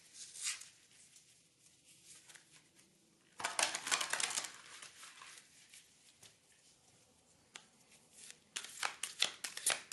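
Oracle cards being pulled and shuffled by hand, quiet riffling bursts broken by pauses and soft handling noises, close up with no talking.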